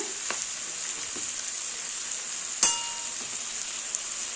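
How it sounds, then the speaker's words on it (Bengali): Onion, tomato, chicken and garlic paste fry in hot oil as a steady, bright sizzle, broken by a few light utensil taps and one sharper metallic clang partway through. "এখানে পেঁয়াজ আর টমেটোটা তেলের মধ্যে ভালো করে ভেজে নিচ্ছি।"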